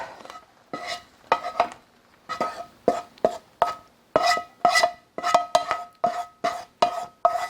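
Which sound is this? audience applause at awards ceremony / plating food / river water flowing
plating food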